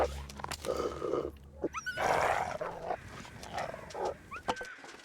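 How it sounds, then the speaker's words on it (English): A wolf growls and snarls in The Long Dark video game, a run of rough, uneven grunts and throaty bursts over several seconds, close and fairly loud, with short gaps between them. "Wolf in our path by the noise."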